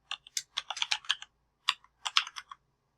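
Someone types a password on a computer keyboard: two quick clusters of crisp, close key clicks separated by a short pause, in a quiet room with no talking.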